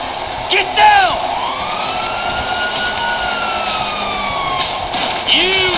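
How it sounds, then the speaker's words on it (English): Police sirens wail in GTA Online, several rising and falling tones overlapping across the scene, fairly loud with engine and game noise beneath and voices talking over them. "you hear that? Sirens."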